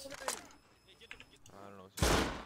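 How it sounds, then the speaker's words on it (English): A flurry of sharp gunshot bursts in a game, with one loud blast near the end, under faint overlapping voices and clutter. "So many dang gunshots."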